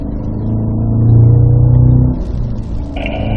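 A Cadillac CT5-V Blackwing with a manual gearbox accelerates on a wet Spring Mountain track in Pahrump, its engine droning up in a loud, close rumble that swells, eases off, and picks up again with a hint of tire hiss.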